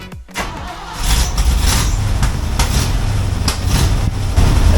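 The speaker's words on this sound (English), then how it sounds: "I think I've still got an exhaust leak. I can hear the popping" A Ford F100 truck engine fires up and runs loudly nearby, with sharp intermittent pops and crackles from an exhaust leak over the rumble.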